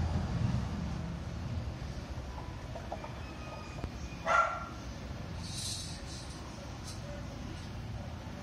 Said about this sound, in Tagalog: Ay, aso ng kapitbahay para.